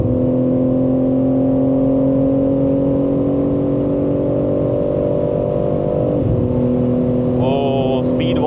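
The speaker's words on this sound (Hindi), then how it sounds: "गेट डाउन देखो 6-7000 समथिंग आरपीएम पे रेडलाइन करती है।" A BMW M3 Competition engine holds a steady, loud, close drone as it climbs in revs on winter tyres. The pitch shifts briefly near the end, and a faint electronic tone is also heard.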